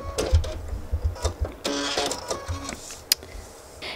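A sewing machine stitching along a paper piecing line on a quilting block, with short bursts of whirring stitching broken by pauses and small mechanical clicks, heard up close without talking.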